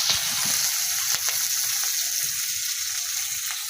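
Chopped onion and garlic frying in a pan, a continuous strong sizzle with a few faint stirring taps.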